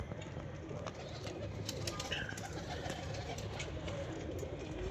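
Pigeons coo softly under a steady wash of outdoor background noise.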